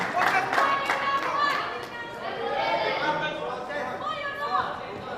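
Spectators cheering and clapping around a glass squash court at a junior team championship semi-final, a lively wash of applause, shouts and crowd chatter swelling and easing, with voices talking throughout.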